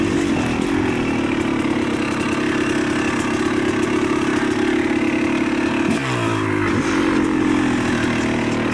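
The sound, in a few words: Yamaha YZ300 dirt bike engine revving while riding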